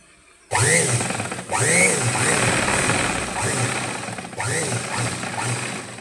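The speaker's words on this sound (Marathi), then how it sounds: "बघा अशी स्ट्रेट शिलाई करून घेतली आपण. त्या साईडला पण अशी शिलाई करून घेऊ." A sewing machine runs a straight seam on a blouse, a loud close mechanical whirring drone that starts abruptly, pauses briefly twice and then resumes.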